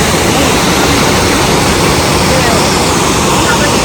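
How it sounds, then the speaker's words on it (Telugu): Gundam Waterfalls near Eturnagaram, rushing water roaring as a loud, dense, unbroken wash throughout. "So guys, Gundam water falls."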